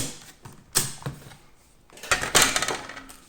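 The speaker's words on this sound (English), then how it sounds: "And start unscrewing the screws." A screwdriver works screws loose on a Dell Precision 7510/7520 laptop, giving close metallic clicks, scrapes and small rattles in irregular bursts.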